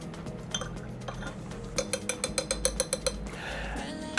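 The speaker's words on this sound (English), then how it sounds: "All right, we'll stir that up." A spoon stirs Campari and grapefruit in a glass, giving quick, bright, evenly spaced clinks in a short rhythmic run. Softer handling sounds come before and after.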